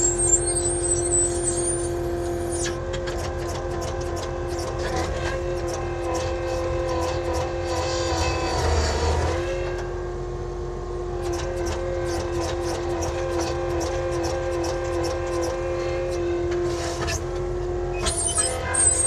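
A small Avant loader drives over gravel with its tires digging in, its engine a steady loud drone with a brief surge in the middle and faint crunching and clatter along the way.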